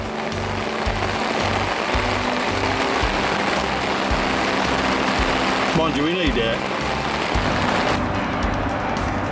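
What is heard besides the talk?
rain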